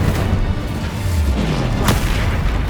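Fire spell blasts from the video game Hogwarts Legacy sound as dense, booming low-end bursts under continuous rumbling game noise, with a sharper crackling hit near the end.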